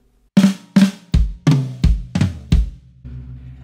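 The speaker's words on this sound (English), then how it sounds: "between these flams on the toms and the snare drum, he plays a bass drum" Snare and tom flams with bass drum kicks between them, from a drum lesson: a steady run of seven strong, close hits, with deep thumps underneath and a low tom ringing at the end.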